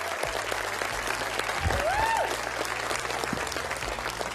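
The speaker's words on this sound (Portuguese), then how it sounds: "Grande aplauso para o Tomás." An audience applauds a child capoeira performer on a TV show, a steady, dense clapping that carries throughout, with a brief whistle-like tone in the middle and low studio hum beneath.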